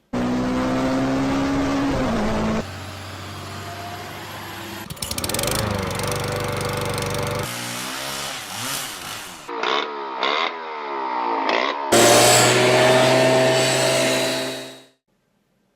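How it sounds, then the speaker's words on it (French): Combustion engines are heard in a rapid succession of loud, varied passages, with droning idles, revving and accelerating motors much like mowers, motorcycles and cars, each cut abruptly into the next before the sound fades out near the end. "pollution sonore, telles que bruit de moteur thermique."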